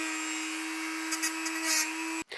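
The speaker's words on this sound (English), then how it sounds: "I'm just going to use my Dremel tool and just trim that off." A Dremel rotary tool whines at a steady high pitch, trimming protruding pieces on a table saw fence jig. A few brief grinding bursts sound as it bites, and then it cuts off abruptly.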